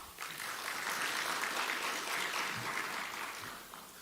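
An audience applauds in a soft, distant wash of clapping that holds steady and then tapers off toward the end.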